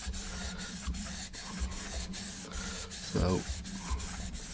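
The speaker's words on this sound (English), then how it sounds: "So I'm just going to rest it flat on the bevel and sharpen it like I'm doing now." A Mora Companion knife is stroked flat on its Scandi bevel across a flat sharpening stone, making close, even rhythmic rasping strokes, about two per second, with a brief spoken word.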